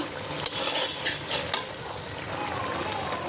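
Curry with nut and poppy seed paste sizzling in a pan as it is stirred, a close steady fry with a few light clinks of a spoon against metal near the start.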